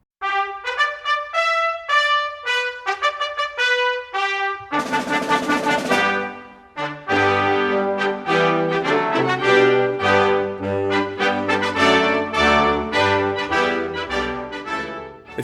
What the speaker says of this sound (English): March of the Volunteers, national anthem of the PRC